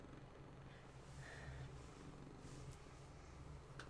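Soft, continuous purring from a house cat, low and steady with slight rhythmic pulsing, close but faint against quiet room noise.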